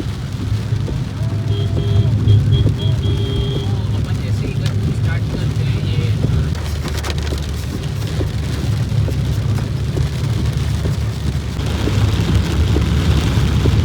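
Monsoon raindrops patter steadily on a car in a hilly pilgrimage area, a continuous dense hiss with a low rumble underneath and a voice talking over it.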